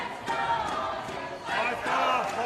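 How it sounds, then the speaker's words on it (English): Australian supporters cheer and shout from the stands at a powerchair football World Cup match against France, a broad, steady crowd roar that swells louder in the second half. "Australian fans trying to find their voice in the crowd"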